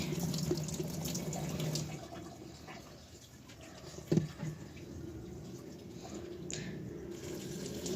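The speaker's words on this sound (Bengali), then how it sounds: "ভাবলাম ফুলের পানিটা চেঞ্জ করে দিই" Water runs and splashes from a tap, close by, as a flower vase's water is changed, easing off midway and picking up again, with a few drips and a brief clunk.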